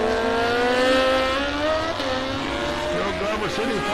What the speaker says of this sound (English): So you got the Harley alongside the Kawasaki.